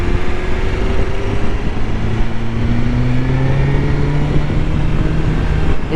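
A 2021 BMW S1000XR motorcycle under way on the road, its engine droning loud and steady close up with rising tones as it gathers speed, wind rush throughout and no talking.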